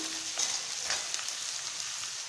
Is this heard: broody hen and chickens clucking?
no